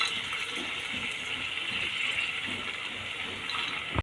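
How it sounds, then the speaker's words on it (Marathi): Sprouted moth beans are rinsed under running water for a Misal pav, a steady close hiss of flowing tap water filling the whole stretch before cutting off abruptly at the end. "मोड आलेली मटकीला थोडंसं पाण्यामध्ये स्वच्छ धुवून घ्यायचं आहे"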